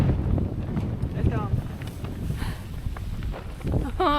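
Wind buffets a microphone outdoors beside a chicken coop being winterized, a continuous low rumbling roar with a few faint footsteps and brief voices mixed in.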